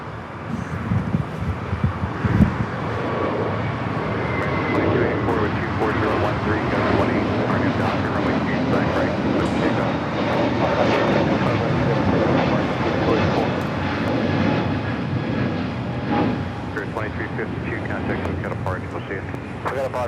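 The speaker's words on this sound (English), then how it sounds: "Going to another Spirit flight, taking off 25 at right." A Spirit Airlines airliner takes off from runway 25 right at LAX, its jet engine roar loud and sustained throughout, with a person talking over it.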